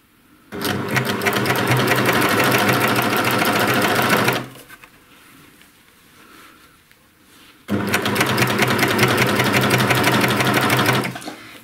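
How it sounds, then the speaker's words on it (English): A freshly threaded sewing machine takes a few stitches with no fabric, giving two loud, steady bursts of rapid mechanical whirring separated by a quiet pause. "Since I just freshly threaded my machine, I'm going to take a couple of stitches without anything to get it going"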